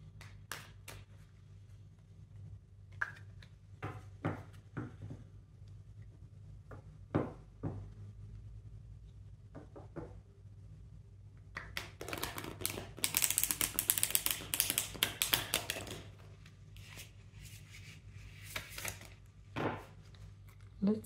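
Tarot cards shuffle and riffle in bursts of soft clicking and flapping, with a denser flurry of rustling near the middle and scattered taps around it.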